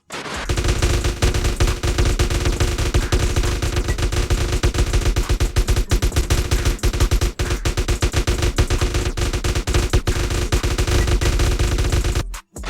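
Sustained rapid automatic gunfire from a GTA-based video game, loud and nearly continuous bursts with brief pauses, ending abruptly.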